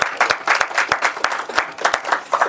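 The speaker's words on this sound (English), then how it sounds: "Can we have first a big round of applause for our Toastmaster Ankur?" Audience at a Toastmasters club meeting clapping for about two and a half seconds, individual sharp claps distinct in an uneven rhythm from a modest-sized group nearby.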